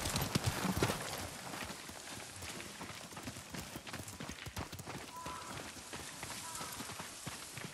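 A horse's hooves clip-clop steadily on the ground in the video game Ghost of Tsushima, a quick, even rhythm at moderate distance with a soft patter like rain behind it.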